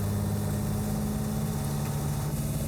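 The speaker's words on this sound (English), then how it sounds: "You can notice the Ferrari engine." The Ferrari-built engine of a vintage Fiat Dino Spider runs at a steady, low, droning hum, heard from inside the car without talking.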